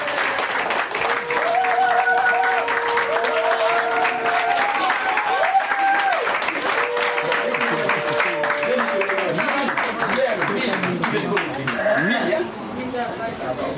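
Sustained applause and cheering from a crowd at a customary wedding celebration in Fontenay-Trésigny, steady and loud throughout, with voices and chatter mixed in.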